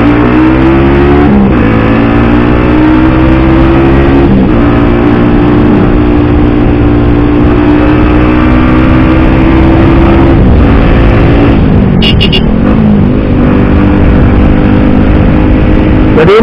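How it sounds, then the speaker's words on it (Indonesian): Motorcycle engine revved hard with the exhaust closed while stopped at a red light, a loud sustained harmonic drone with a couple of sharp throttle blips and dips, close to the microphone with no talk. "kita geber untuk suara ditutup"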